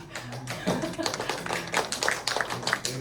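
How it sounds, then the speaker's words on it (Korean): A child's quick, uneven hand claps patter close by, mixed with small taps and background voices. "물개 박수를 치네요"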